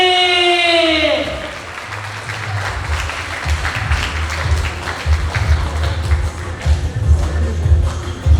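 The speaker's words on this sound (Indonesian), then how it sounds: "Sekali lagi beri tepuk tangan yang meriah untuk" An audience applauds after a stage performance at an event in Banjarmasin. Dense, steady clapping builds after a fading tone at the start and continues loud and close to the end.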